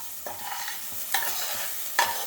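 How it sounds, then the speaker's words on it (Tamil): Onions fry for chicken gravy in a pan whose lid is briefly lifted, giving a steady close sizzle broken by three sharp stirring scrapes at regular intervals, with no voices. "இப்போ அப்பப்போ கொஞ்சம் நேரம் திறந்து இதை கலக்கி விட்டுணும்"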